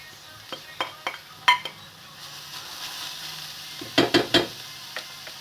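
Onion and pepper frying in a pan, with scattered stirring clinks and utensil scrapes over a faint, steady sizzle, close by.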